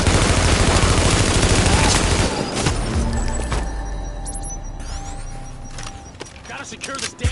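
A deployed turret in a video game hammers out a long, loud stream of rapid gunfire that gradually thins into scattered shots and metallic clinks, with mechanical rattles near the end.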